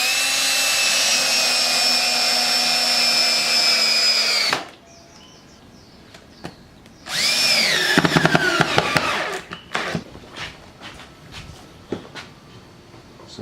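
A dowel and rod turning machine shaping wood into dowels: a steady high motor whine runs for a few seconds, stops, then returns with rough cutting and clattering bursts before fading into scattered knocks and clicks.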